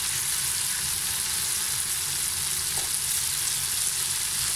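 King fish fries in a pan on high flame with a steady, dense hiss and crackling sizzle, close and continuous, with no talk.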